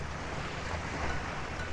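Steady wash of sea surf along the shore at a beach resort in Cantilan, Surigao del Sur, with broad windy noise buffeting the microphone and no voices.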